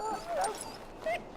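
A hurt dog in the fantasy role-playing game Dragon Age Origins whimpers in short, high, wavering whines, two distinct cries within a second and a half, fairly faint.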